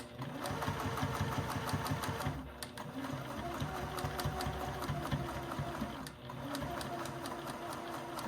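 A sewing machine stitches continuously in fast rhythmic bursts, pausing briefly twice before starting up again, loud and close.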